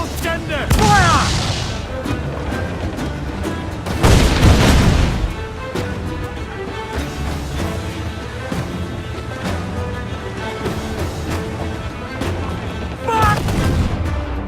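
Ship cannons fire in Assassin's Creed 4: Black Flag: several heavy booming volleys, the loudest near the start and around four seconds, with a scattered rumbling fusillade between and shouted crew voices in the mix.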